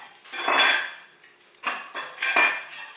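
A knife chops hot peppers on a cutting board, several sharp clacks of the blade striking the board in quick bursts, close and fairly loud, with no talking.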